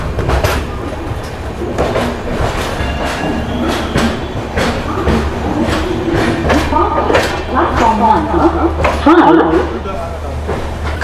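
Jan Shatabdi express train from Hubballi pulling into platform 9 at KSR Bengaluru railway station, with a steady low rumble of rolling wagons and rising wheel clatter and squeal near the end, under someone talking throughout.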